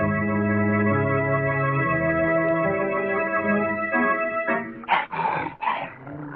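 A dog in an old radio mystery drama gives a few short whimpering yips and growls near the end, right after a stretch of sustained music.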